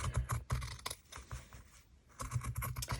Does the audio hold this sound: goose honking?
no